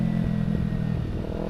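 A motorcycle with a racing exhaust hums at a steady, fairly loud mid-pitched drone, with no voices over it.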